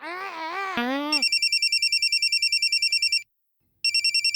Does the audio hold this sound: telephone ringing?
yes